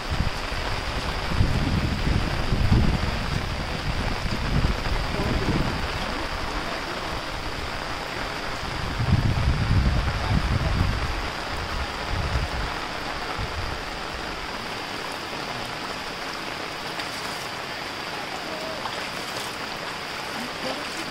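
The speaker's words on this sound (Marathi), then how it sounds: "पाऊस एकदम जोरात आहे," Steady, dense hiss of heavy monsoon rain pours over Konkan rice fields throughout, with a few louder low rumbling gusts in the first half.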